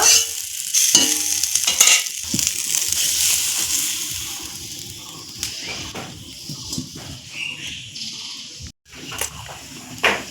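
A spiced stuffing for stuffed kakrol (spiny gourd) is stirred and cooked in a kadai: a steady sizzle with repeated scraping and stirring strokes, fairly close, running for about ten seconds with a brief drop near the end.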